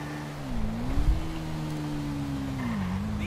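Suzuki Bandit motorcycle ridden in GTA V near a port: a steady, close engine hum that rises and dips slightly in pitch as the bike cruises, continuous with no talk.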